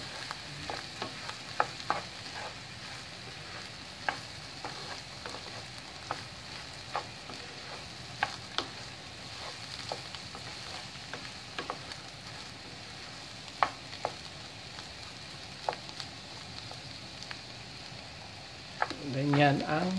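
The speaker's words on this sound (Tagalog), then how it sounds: "So, ihalo na natin ang rice. And then, stir it again and again." Rice for an asparagus risotto stirred in a pan, a soft continuous sizzle with repeated light scrapes and taps of the spoon over twenty seconds, fairly quiet, ending with a louder clatter.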